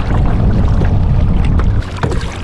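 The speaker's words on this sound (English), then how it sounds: "there's the first sign of boat traffic" A boat passes on Kirkpatrick Lake in Northern Ontario, a steady low rumble close by, mixed with wind buffeting the microphone and gently fading toward the end.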